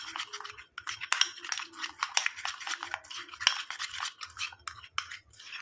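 A spoon stirs gram flour into a face pack paste in a small bowl, making close, busy clinks and scrapes against the sides in uneven bursts with brief pauses.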